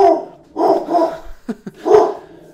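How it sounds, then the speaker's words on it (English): A dog gives a series of close, loud barks, about five or six in quick irregular succession, some short and clipped, others longer and more drawn out, with no talking. "And Bo, please stop barking."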